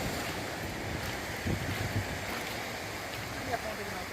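Waves washing against low-tide rocks at the Bay of All Saints in Salvador, a steady broad wash mixed with wind buffeting the microphone, with faint voices in the background.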